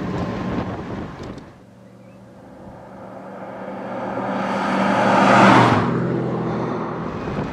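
Daimler Dart engine accelerating hard in gear, a rising roar that swells toward a strong peak late in the run, mixed with wind noise after a brief dip.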